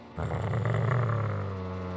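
A low, rumbling growl starts abruptly and holds steady, close and fairly loud, with no talking over it.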